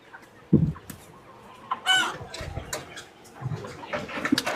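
Broiler chickens cluck and squawk nearby at a poultry shop, with one sharp crow-like cry in the middle, the calls coming in irregular bursts over low background noise.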